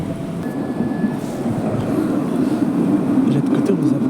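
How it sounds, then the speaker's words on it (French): A Montpellier tram rumbles steadily into Port Marianne station, a continuous low rolling drone growing slightly louder, with people talking faintly in the background. "il y a notre rame qui arrive"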